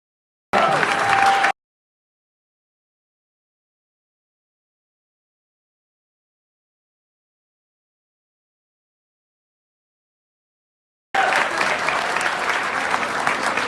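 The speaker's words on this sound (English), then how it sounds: "Give them another round of applause." Applause from the audience at a school graduation ceremony for the class of 2023, a one-second burst of clapping, then a long silence, then a sustained round of applause near the end.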